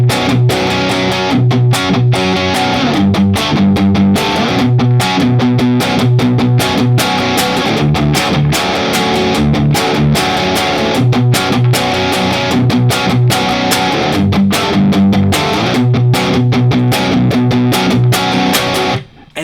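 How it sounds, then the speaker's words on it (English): Distorted electric guitar chugs through the main riff of a song in rapid strummed eighth-note patterns with muted chucks, loud, dense and continuous for nearly twenty seconds with no voices. "So the entire main riff will sound like this."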